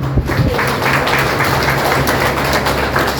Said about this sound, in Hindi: इसलिए बच्चों के साथ साथ उन सब के लिए एक जोरदार ताली।